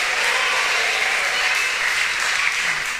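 Church congregation applauding, a steady dense wash of clapping held at even loudness for a few seconds with no voices rising above it.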